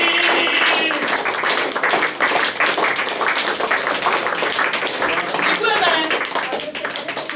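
Audience clapping in a theater auditorium, dense rapid hand claps at close range, continuing steadily under talking voices.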